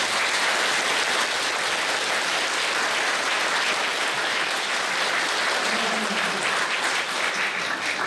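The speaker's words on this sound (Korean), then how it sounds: "큰 박수로 환영해 주시기 바랍니다." Parishioners at a founding Mass of a Catholic community clap to welcome a new parish helper, a dense, even round of applause that carries on at a steady level throughout.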